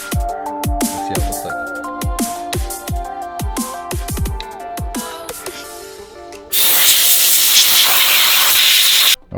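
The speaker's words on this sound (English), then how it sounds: "I'm gonna go ahead and give some compressed air" Compressed air blasts over a car engine bay as a loud, steady broadband hiss that starts abruptly and holds for about three seconds, preceded by clattering knocks and tonal tapping, with no talk.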